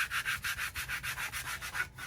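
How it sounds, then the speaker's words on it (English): A big scraper is passed repeatedly over a wooden piece, giving soft, even rasping strokes in a quick regular rhythm, close and fairly quiet, with no talk. "So I'm going to get my big scraper."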